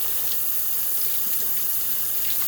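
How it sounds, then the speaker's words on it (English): Steady rush of kitchen tap water pouring into a sink, a continuous broadband hiss with no talking. "Turn on the water, make sure it's lukewarm"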